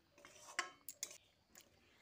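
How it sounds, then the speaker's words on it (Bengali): A spoon stirs potato and drumstick curry with fried brinjal and lentil dumplings in a pan, making a few soft scattered clinks and scrapes, quiet and close. "তারপর আলু ডাঁটার সঙ্গে একটু মিশিয়ে দিচ্ছি।"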